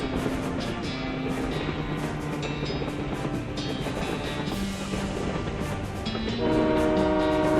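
A train in the video game West of Loathing rumbles along steadily, with sustained tonal horn-like notes over the rolling noise and a louder swell near the end, no speech.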